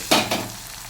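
A tomato drops into a hot pan with two quick, close bursts of sizzling that fade into a gentle hiss, with no talk.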